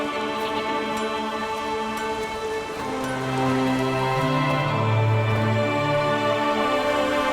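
Steady rain in the game The Witcher 3: Wild Hunt, a constant hiss of falling water on the ground under a low tonal music bed, swelling slightly louder midway and holding without pause.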